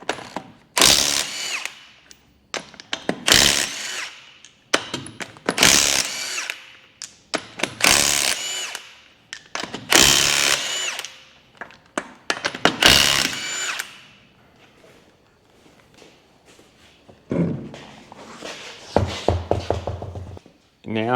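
A power tool, likely an impact wrench, undoes the wheel nuts of a Toyota Hilux: repeated loud whirring bursts several seconds apart, with someone talking in the gaps and later quieter clicking.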